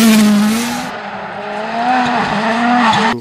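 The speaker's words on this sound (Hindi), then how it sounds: "एक 95 स्टिकर वाला एक सुपर रेसिंग कार है" A toy McQueen racing car with a number 95 sticker gives off a loud, continuous engine-like whine with squealing, skidding tones that rise and dip, with no voices.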